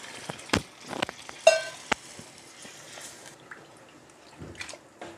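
Water poured from a jug, about one and a half cups, into chili, turmeric and spices frying for chicken nihari, with sporadic splashes, drips and clinks of pan and utensil, fairly faint and close.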